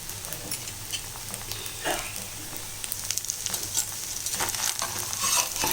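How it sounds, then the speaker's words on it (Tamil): Wheat flour dosa sizzling in oil on a hot pan after being flipped, a continuous close crackling fry with small popping bursts, steady throughout with no talking. "இப்போ இதை திருப்பி போட்டாச்சு இன்னும் கொஞ்சம் நம்ம எண்ணெய் விட்டுக்கலாம் இதில்"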